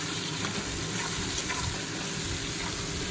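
Potato pieces frying in a pan with salt and turmeric for a Bengali banana-flower and prawn dish, a dense, continuous hiss of hot oil with soft stirring underneath, close, even in level and free of speech.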